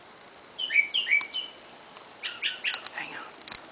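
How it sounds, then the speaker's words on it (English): A mockingbird sings nearby outdoors, with bright, rapid chirping phrases in two bursts separated by a short pause. No one speaks over the song. "I think that's a mockingbird."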